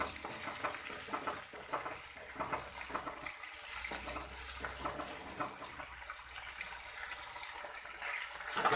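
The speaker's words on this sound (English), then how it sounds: "Fry it for around 30 seconds in oil so that the flavors will be released to oil" Chopped onion and fresh mint frying in oil in a pan for a vegetable pulao, a steady soft sizzle with occasional stirring scrapes, close and continuous.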